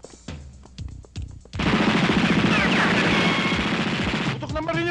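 Sustained burst of rapid gunfire in a Filipino action film, loud and dense for about three seconds after a few sharp earlier shots, with brief talk at the end.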